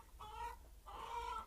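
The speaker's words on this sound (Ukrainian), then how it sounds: "О, кури там." Chickens cluck quietly in a farmyard, two drawn-out, nasal calls heard at a distance over a low background hum.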